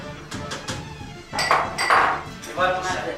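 A metal lid goes onto a cooking pot of rice and millet with a few sharp clinks and a ringing ping, close by, while someone talks.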